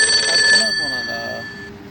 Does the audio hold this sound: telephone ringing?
yes